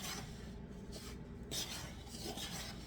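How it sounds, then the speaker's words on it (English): Coarse graham flour being stirred for sourdough English muffins, a steady close scraping and rasping that swells in slow strokes, with no voices. "Now you're going to mix this flour up."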